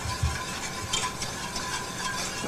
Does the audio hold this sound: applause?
no